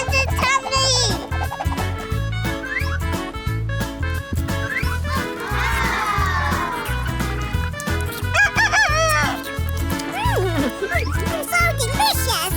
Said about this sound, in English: Come on, chickens, it's time to eat.